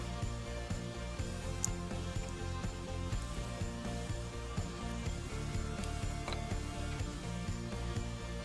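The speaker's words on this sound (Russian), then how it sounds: "Раскрутить 35-й саморез, сухой брусок из дерева тоже под силу" A Makita PGC-120040 multitool screwdriver turns a self-tapping screw in a dry wooden block, making a continuous close ratcheting, creaking mechanical sound with no talking.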